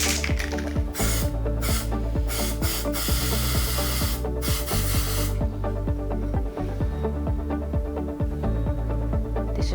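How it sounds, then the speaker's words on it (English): Aerosol spray paint squirted into a small cup, several loud, close hissing bursts over the first five seconds, then quieter rattling and clinking sounds under a steady background rhythm. "I will use the spray paint and I will spray it in this little cup"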